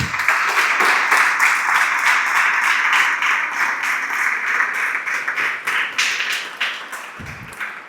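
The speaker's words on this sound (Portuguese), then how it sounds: "Você pode aplaudir o Senhor?" A church congregation applauds with dense, continuous clapping from many hands, loud and close, holding steady for about eight seconds before thinning slightly at the end.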